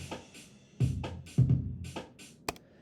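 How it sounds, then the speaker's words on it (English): A programmed MIDI drum pattern plays alone: soft kick thumps and snare-like hits in a steady groove, ending with a sharp, bright cymbal-like tick, fairly quiet overall. "So I've got a little MIDI drum clip I've made here. It sounds like this."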